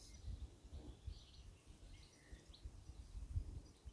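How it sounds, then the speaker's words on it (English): Birds sing faintly in a garden, scattered soft chirps and tweets drifting at a distance over a quiet, low background rumble. "You can hear the birds in my garden."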